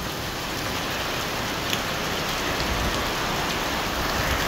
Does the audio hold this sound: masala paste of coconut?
no